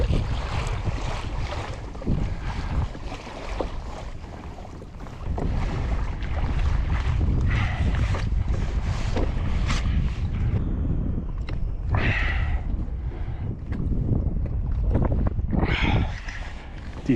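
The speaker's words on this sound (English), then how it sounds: "That wind's got to back off. It's blowing pretty good." Strong wind roars steadily across the microphone aboard a fishing boat out jigging for striped bass, with waves and water sloshing against the hull underneath.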